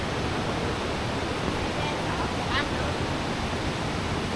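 Waterfall at a roadside stopover near Dalat, Vietnam, a loud, steady broadband rush of falling water filling the scene without a break.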